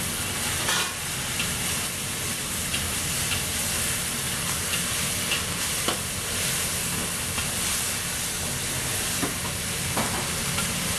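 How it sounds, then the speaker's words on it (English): Shrimp stir-fried in a pan for Cantonese chow mein, a loud, continuous close sizzle and hiss with periodic scraping and clanking of utensils against the pan, no talk. "Then they put the shrimp in it."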